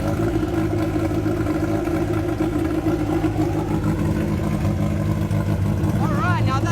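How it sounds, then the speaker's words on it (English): A freshly started car engine runs at a steady idle in the auto city of China, a continuous close, loud hum and rumble with voices talking over it. "Alright, now that's a beautiful engine."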